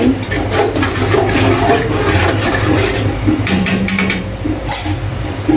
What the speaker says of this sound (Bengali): সে দুধটা আমি ঢেলে দিচ্ছি